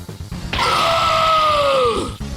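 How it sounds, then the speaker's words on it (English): Vegito's blood-curdling scream: a loud, sustained strained cry held for about a second and a half, slowly falling in pitch, standing alone over a low rumbling background. "A blood-curdling scream is heard by none other than Vegito"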